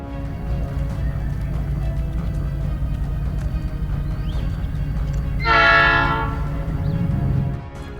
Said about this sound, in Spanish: el maquinista de patio les aventó un silbatazo